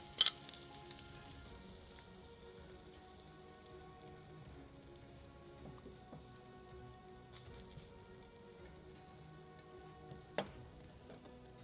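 A ham, bacon and egg omelette cooks in a pan over low heat, giving a faint, steady fine sizzle with soft crackles and a couple of sharper clicks, no talking.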